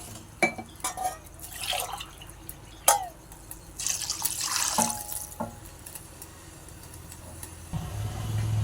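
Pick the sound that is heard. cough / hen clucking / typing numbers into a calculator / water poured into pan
water poured into pan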